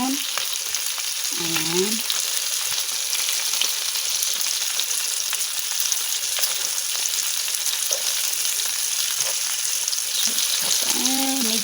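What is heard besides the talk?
salmon frying in garlic butter and oil, sizzling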